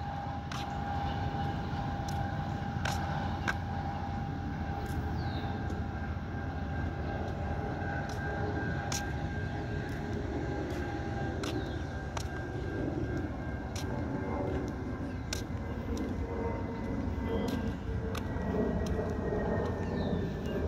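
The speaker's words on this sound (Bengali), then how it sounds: "এই যে ট্রেনটা ছেড়ে চলে যাচ্ছে" A local two-storey diesel train pulls out of a railway station with a steady, loud engine drone and rumble, a clear sustained tone above it and regular rail clicks ticking past.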